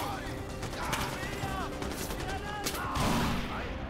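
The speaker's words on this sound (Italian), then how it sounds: "Allora, c'ho anche le granate. Utilizziamole." Grenade blasts and gunfire in the shooter game Far Cry 4, a dense run of booming explosions and rattling shots under a steady bed of noise, with someone talking over the action.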